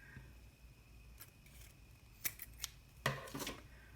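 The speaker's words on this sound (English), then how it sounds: "I'm going to get the scissors and just cut." Scissors snip through a short piece of string while a paper 2x2 Rubik's cube is being made, several quiet crisp cuts and clicks late in an otherwise hushed moment.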